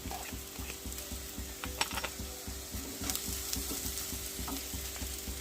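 Onion and mild green chillies sauté in a pan for a drumstick-leaf thoran, a steady sizzle broken by rhythmic scraping stirs and small clicks, close and moderately loud with no speech.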